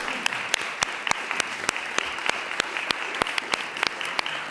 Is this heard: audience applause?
yes